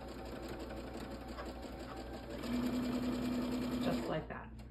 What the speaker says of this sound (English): And you'll sew the second line.